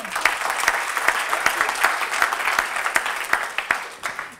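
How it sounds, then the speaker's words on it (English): Steady audience applause fills a conference hall at a soil and land panel session, dense overlapping claps at an even level with no voices over it. "And that really deserves an applause."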